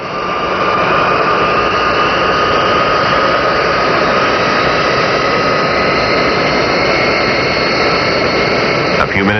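A 1960s jet airliner taxis toward the runway at Los Angeles International Airport, its engines a loud, steady roar with a high whine running through all of it.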